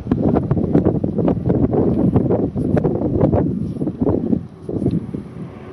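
Wind gusts outdoors at the ruins of an 1860s mansion, a loud, continuous low rumble buffeting the microphone that rises and falls in waves, with a brief dip near the end.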